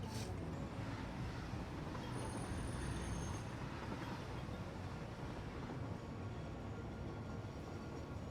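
A video game train rumbles past through a small arch, a low continuous rolling drone with faint wheel screech and a brief high squeal partway through, fairly quiet and with no speech.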